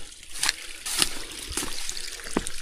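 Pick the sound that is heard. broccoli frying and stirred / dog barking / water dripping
water dripping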